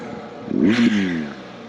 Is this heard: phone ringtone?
no